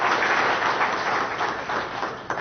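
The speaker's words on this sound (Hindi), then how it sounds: "जोरदार तालियों के साथ स्वागत अभिनंदन।" Loud, sustained applause from an assembled audience welcoming a speaker at a ceremony, a dense continuous roar of many hands clapping together.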